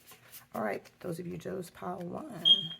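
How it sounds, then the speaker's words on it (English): A fire alarm gives a single short, high-pitched electronic chirp near the end, heard under someone speaking nearby. "Sorry for the beeping. It's the fire alarm."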